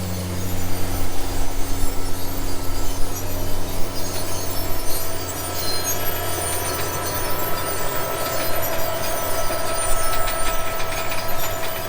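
Continuous grinding machinery noise from a farm seeding machine rolling along, with a faint high squeal from what may be the brake calipers riding over the steady low rumble.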